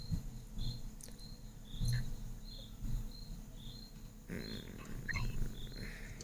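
Crickets chirp in short repeated bursts throughout, moderately faint, with some soft patter and background rustle underneath.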